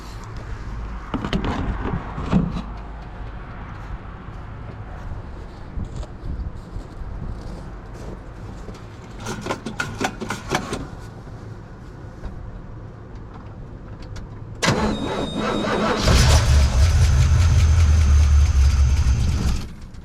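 A 1974 AMC Javelin, recently overheated and topped up with fluid, cranks and catches on a cold night, settling into a loud, steady, rumbling idle after a long quiet stretch with faint background noises.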